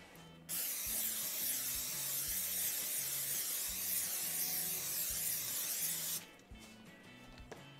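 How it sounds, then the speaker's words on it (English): Cooking spray hisses from an aerosol can into a baking dish over a kitchen sink in one loud, steady burst lasting about six seconds, with a faint rhythmic hum beneath it and a brief clatter after it stops. "I've got a baking dish that I'm going to spray with cooking spray so it doesn't stick to the bottom."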